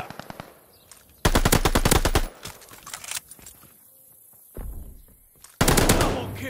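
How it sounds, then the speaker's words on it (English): Automatic gunfire around a hardpoint in the video game Call of Duty Vanguard, loud rapid bursts of machine-gun fire separated by quieter gaps with scattered single shots. "Hardpoint's under fire!"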